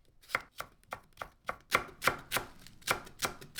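A knife slicing button mushrooms and green cabbage leaves for spring rolls on a board, about a dozen crisp, evenly paced cuts close by with no talking.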